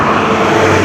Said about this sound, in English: When a truck passes close to you